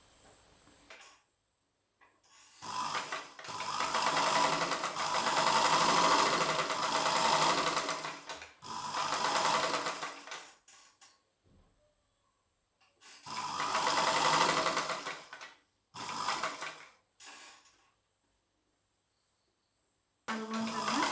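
Sewing machine stitches a baby dress made from a small mundu in several close, rapid bursts of steady mechanical whirring, separated by short pauses.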